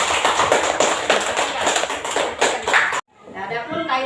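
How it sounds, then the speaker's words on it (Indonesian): Children in a classroom clap together in a brisk, dense burst of applause for about three seconds, then stop abruptly, leaving quiet room sound with faint voices. "Kita kasih tepuk tangan dulu."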